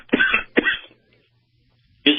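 Someone coughs twice in quick succession close to the microphone, a short silence follows, then a third cough starts at the end.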